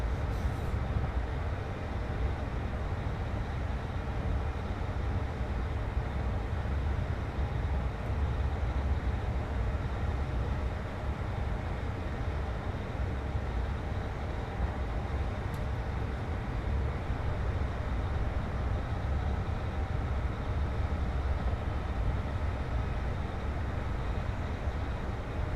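An IET train passing in a train simulator game, a steady low rumble and rolling noise that holds evenly throughout without breaks.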